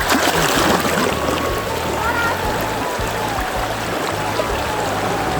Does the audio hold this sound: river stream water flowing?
yes